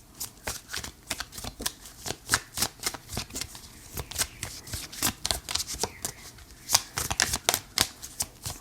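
Tarot cards are shuffled and drawn in a steady run of close, crisp riffling flicks, each short burst distinct, with no talking over them.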